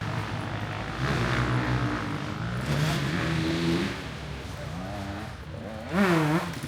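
A motocross bike, KTM or Husqvarna, starts and warms up nearby, its engine revving in several rising and falling bursts over a steady idle, the last blip loudest.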